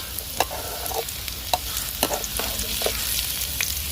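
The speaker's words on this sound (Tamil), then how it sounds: "ரெண்டு பச்சை மிளகாய் வெங்காயம் உளுது எல்லாம் போட்டு பொரிக்குவோம்" Crackling sizzle of green chilies, onions and urad dal frying in hot oil, with steady spattering and a few sharp stirring clicks, no talking.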